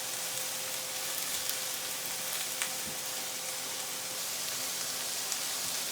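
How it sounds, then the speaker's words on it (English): Steaks sizzle in a pan, a dense, steady crackling hiss with occasional pops, heard alone at moderate volume. "Steaks are done sizzling, ready to go into the oven."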